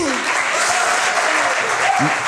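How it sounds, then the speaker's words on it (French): Crowd at a grand finale event bursts into vigorous clapping, loud and continuous, with a few cheers and a voice faintly heard beneath the applause. "On peut l'applaudir"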